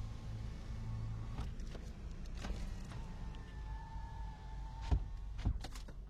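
Steady low road rumble and hum inside the cabin of a moving car, a Suzuki Ertiga Cruise or Mitsubishi Xpander Ultimate, with a few brief ticks and a faint tone partway through, no talk.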